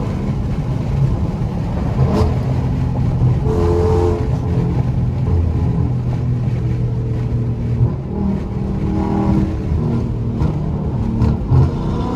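A 500 hp Dodge Scat Pack accelerating hard on a freeway, a loud continuous engine roar that climbs and shifts in pitch as it pulls, heard from inside the car.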